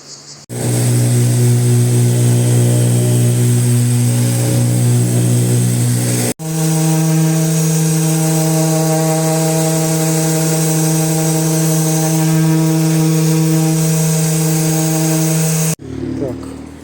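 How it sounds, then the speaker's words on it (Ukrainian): A power tool runs steadily for about fifteen seconds, briefly interrupted once, while abrasive sandpaper works over a countertop ahead of a polyurethane coating; the droning hum stays loud and close throughout. "Для цього зачищаємо наждачкою."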